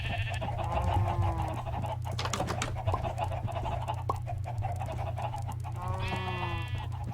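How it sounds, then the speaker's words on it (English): Sheep in the Minecraft video game bleat in a few wavering calls, close and clear over a steady low background hum, one strong cry near the end. "Come on, sheep."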